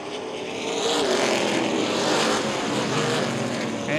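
Late model race cars roar past on the Baer Field Speedway oval during a championship night feature, a loud, sustained engine blast that swells and holds without talk.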